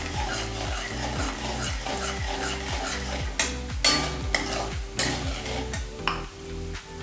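Chevda ingredients roast with curry leaves in hot oil in a pan, a soft steady sizzle under a low rhythmic mechanical hum, with a few sharp spoon scrapes and clinks near the end.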